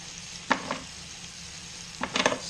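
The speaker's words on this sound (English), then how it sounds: "All I want to do is just get that meat seared off." A haunch of venison sears in a hot pan, a soft steady sizzle under a few sharp scraping or clattering knocks near the start and a quick cluster near the end, close by with no voices.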